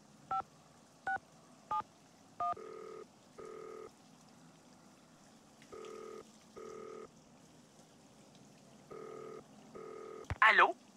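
Telephone dialing in the video game Nancy Drew: Danger by Design: four quick keypad tones, then six separate short two-tone beeps in an even rhythm, ending with a brief burst of a higher sound.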